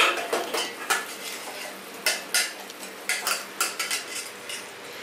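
Utensil scraping and clinking against a pot or bowl while gravy is mixed into thick flattened rice for chicken biriyani, a series of sharp, close metallic taps and scrapes in irregular rhythm, with no talk.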